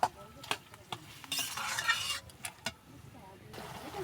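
Prawns and green chillies are mixed in a cooking pan. Scattered spatula scrapes and clinks against the pan sound close and fairly quiet, with a brief burst of sizzling in the middle.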